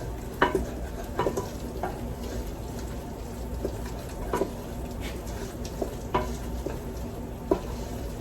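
Flour is stirred with vegetables and butter in a pot, a steady soft sizzle with light, scattered scrapes and taps of the spoon against the pot.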